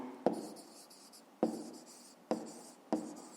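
Pen writing digits on paper during a fifth-grade math exercise: four short, separate scratchy strokes, each with a sharp onset that quickly fades, close and quiet, with no voices.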